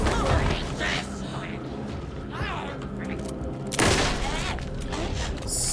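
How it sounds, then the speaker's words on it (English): Rifle shots in the video game Alan Wake 2, a series of loud sharp cracks spaced a few seconds apart amid mechanical clatter, with someone talking over the action. "6 rifle shots. So you have to reload."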